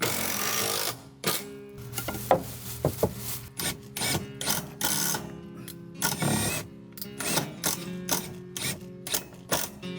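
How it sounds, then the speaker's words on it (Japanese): Steel-plate screws are driven through light-gauge C-channel into 40 mm square wooden studs during a carpentry renovation, a run of repeated close mechanical bursts of whirring and clattering with brief pauses between them, no talk. "C ちゃんに鉄板ビスで直接ノブチをつけてきます。"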